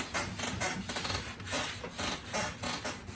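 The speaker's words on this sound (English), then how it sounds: "basically just rubbing this wax into the pores of the unit." Rag buffing wax into a wooden farmhouse coffee table, giving a steady, close rubbing swish with rhythmic strokes that repeat about twice a second.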